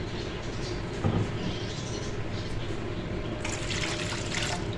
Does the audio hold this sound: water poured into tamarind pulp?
yes